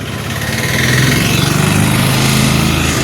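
A vehicle engine runs loud and close with a steady buzzing drone that rises slightly as it pulls away. The sound is continuous, with no clear speech over it.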